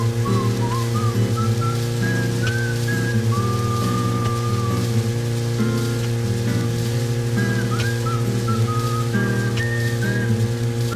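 Rain falls in the video game Deadly Premonition as a steady loud wash under layered droning game music with gliding whistle-like tones, continuous throughout with no talking.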